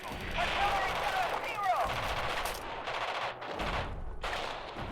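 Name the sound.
artillery shelling and gunfire in the video game Radio General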